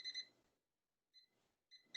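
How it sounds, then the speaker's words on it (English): Kitchen timer started for cooking pasta: a few faint, short electronic beeps come in bursts separated by silence, with a quieter beep in the middle. "We're going to start our timer"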